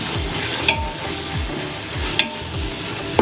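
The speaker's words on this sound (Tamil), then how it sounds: "தக்காளி இந்த மாதிரி நல்லா வதங்கணும்." Tomatoes sauté in a pan for biryani, a loud steady sizzle with a slow repeating stir and three crisp spatula taps against the metal, spaced about a second and a half apart.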